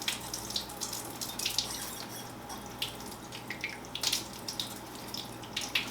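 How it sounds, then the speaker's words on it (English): A tap runs steadily nearby, a constant splashing hiss with small bursts of spatter and no talking. "I like to just run a little bit of water"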